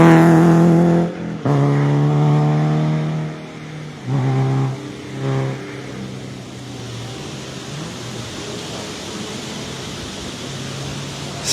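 Race cars at hill climb practice at Pourville, one engine roaring loudly and close at the start, cutting off, then bursts of revving as cars pass and fade into a distant steady drone.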